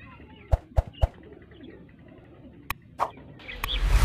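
Pigeons in a garden enclosure in Kot Addu give a few short calls in a quick triple burst, then two more isolated notes, over a steady outdoor background that swells into a louder wash near the end.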